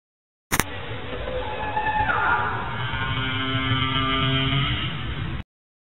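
Whale sounds: long, low moans and rising tonal calls drifting over a murky underwater rumble, steady and moderately quiet.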